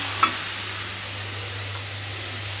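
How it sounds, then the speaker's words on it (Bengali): Red amaranth greens fry in a pan with a steady low sizzle throughout, plus one brief utensil tap near the start. "লাল শাক ভাজি"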